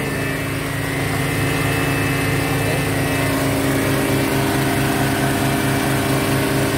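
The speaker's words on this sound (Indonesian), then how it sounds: "Nyala mesin masih standar lah, nggak terlalu ngoyo, standar." A TGR-5000 generator engine runs steadily up close, a continuous loud mechanical drone with a regular low throbbing pulse throughout.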